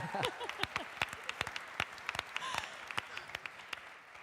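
Sparse applause from a small audience at a university alumni awards ceremony, with distinct individual claps that are sharp and irregular rather than a dense roar, moderately close.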